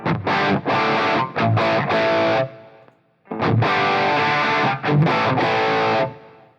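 Distorted electric guitar chords through the enhancer side of a Crazy Tube Circuits Heatseeker pedal, strummed in bursts, gritty and bright, with a short pause midway before the riff resumes.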